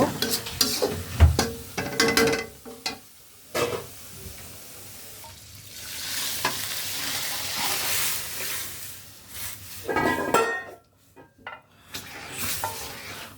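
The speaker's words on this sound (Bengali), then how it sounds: "এখন আমি ডালটা এর মধ্যে ঢেলে দিব" Cooked dal is poured into a pan of fried onion tempering that has turned deep red, setting off loud, crackling sizzling with stirring and clinks of utensils against the pot, which fades and then flares again in bursts.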